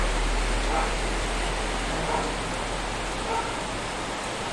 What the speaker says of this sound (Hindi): कल तो नहीं आया था, लेकिन आज फिर से बारिश आया है